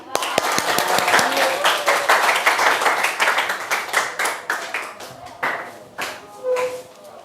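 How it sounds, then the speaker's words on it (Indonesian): A class in a lesson claps together, a burst of many hands that settles into ragged, rhythmic claps and taps, fading into scattered individual claps near the end. "Tepuk tangan."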